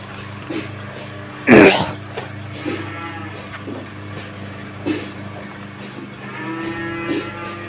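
A cow lets out a short, loud moo or snort, followed by softer snuffling sounds and low bovine noises as cows drink water on a farm.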